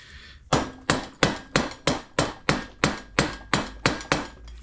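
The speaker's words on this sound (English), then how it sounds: "See, I'm whacking it with a plastic hammer, and I'm hitting it where the exhaust port is." A plastic hammer whacks the cylinder of a Vespa Rally 200 scooter at the exhaust port, landing about a dozen sharp, evenly spaced knocks, close and distinct with no talk.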